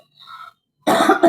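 A person at home at night gives a couple of sharp, close coughs in quick succession, preceded by a faint, brief tonal sound and a moment of silence.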